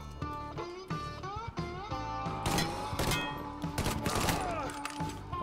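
Bursts of rapid gunfire from the video game Mafia III crackle over tonal game sounds and music, with a few separate shots scattered through.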